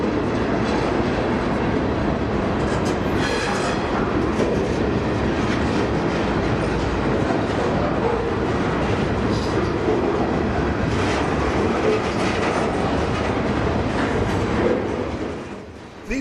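Freight cars loaded with wood products roll steadily past, their wheels clattering rhythmically on the rails with a few metallic squeals, loud and close throughout before the noise falls off right at the end.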